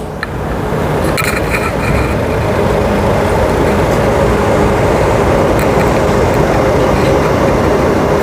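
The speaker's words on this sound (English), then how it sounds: "Beckenham station here, and we do have a train coming" A Metronet passenger train bound for Cockburn pulls into Beckenham station on the Thornlie-Cockburn line, a steady, loud rolling rumble that holds for the whole stretch without any voices.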